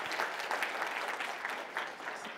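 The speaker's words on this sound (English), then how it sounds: "I want to give a round of applause" Audience applause at the end of a nutrition lecture session, steady soft clapping heard from a distance for a couple of seconds.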